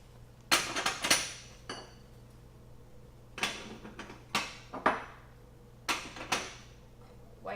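Metal drip pans are set back onto an electric stove top in a kitchen, with several bright clanks and rattling clatters arriving in clusters, separated by short quiet gaps.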